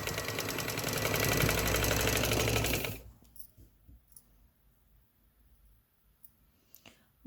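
A sewing machine stitches a fabric strip for back fitting loops, running steadily and close for about three seconds before stopping. Faint handling noises follow in near quiet.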